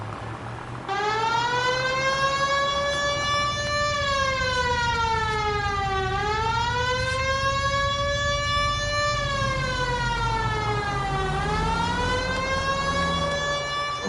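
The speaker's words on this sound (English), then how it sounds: "Put the siren on!" Police car siren in the video game LA Noire, a steady wailing tone that slowly rises and falls over a low engine rumble, loud and continuous with no talk.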